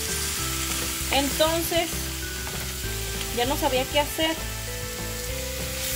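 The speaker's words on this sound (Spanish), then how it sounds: "ya los estaba ahí dorando los chiles" Chile peppers browning in a hot pan give a loud, continuous close sizzle with bursts of spattering, while a voice speaks briefly over it.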